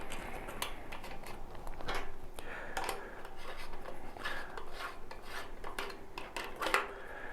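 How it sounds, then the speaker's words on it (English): Small metal screws being driven back into a SilencerCo Salvo 12 gauge shotgun suppressor with a 5/32 hex key, giving close, faint scraping and clicking rasps with brief metallic ticks, no talking. "So now you just reinstall these two screws."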